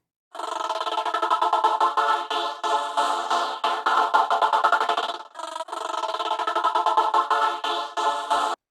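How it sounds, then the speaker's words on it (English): A bright trance-gated choir synth pad with randomized automation pulses in rapid rhythmic chops, sustained and loud, with a short break midway. "I've set up this little choir pad and I'm just doing some randomized automation"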